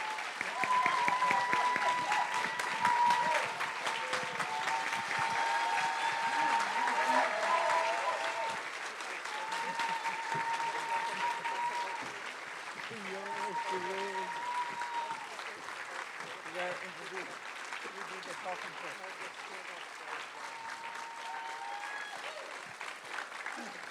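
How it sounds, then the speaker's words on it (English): Warm audience applause for two Klabona Keeper elders at a Human Rights Watch Q&A, long and steady clapping that fades slightly toward the end, with some voices and background tones beneath. "Please give them a warm round of applause."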